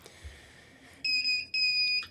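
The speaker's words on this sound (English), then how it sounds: "you can see we are getting audio out of the buzzer" Two sustained high-pitched beeps ring from the buzzer on an S-Pixie CW radio kit, each about half a second long, steady and close, after a quiet start.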